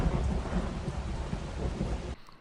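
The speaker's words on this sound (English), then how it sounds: "Then it starts raining." A cartoon rain and thunder sound effect plays as dense, loud, steady rainfall over a low rolling thunder rumble, stopping abruptly after about two seconds.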